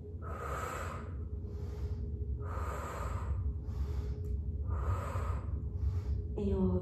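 Steady breathing during a Pilates exercise, with about four slow, audible breath cycles, each a loud rushing inhale or exhale separated by short pauses, close to the microphone.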